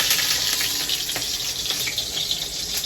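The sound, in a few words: frying vegetables: eggplant, bitter gourd, okra, pointed gourd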